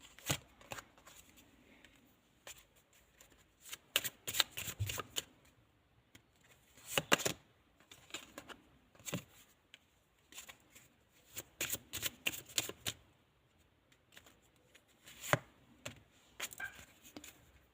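Tarot cards shuffled during a reading, heard close up as quick riffling bursts that repeat every few seconds with short pauses between them and no voices.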